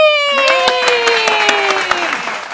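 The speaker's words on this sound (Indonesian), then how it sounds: "tepuk tangan tepuk tangan dong" Studio audience clapping to welcome remote-area teachers as guests on a podcast, a brisk round of hand claps layered under a bright sustained musical jingle with descending tones.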